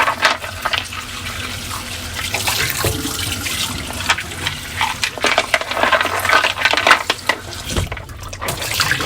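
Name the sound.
rinsing aquarium rocks under running water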